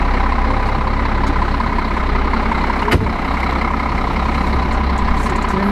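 A car engine idles steadily at the end of an Uber ride, a loud, constant low rumble filling the interior, with one brief knock near the middle.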